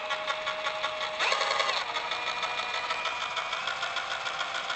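An Einhell IMPAXXO 18/400 cordless impact wrench spins with a whining motor hum that runs unevenly. A brief, harsher surge comes early, then it settles into steady running.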